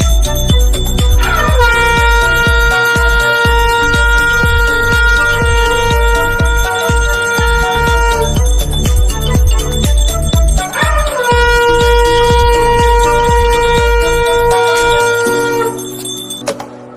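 A conch shell (shankh) is blown after worship in two long, steady, loud blasts, one early and one later, over continuous rhythmic bell ringing and percussion. No one speaks.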